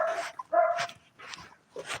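A dog gives several short barks and yips in an uneven rhythm, fairly close with brief pauses between.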